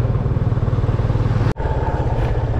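A motorcycle rides a winding mountain road on the way to Rara, its engine a steady, close, throaty drone that cuts out for an instant midway before resuming.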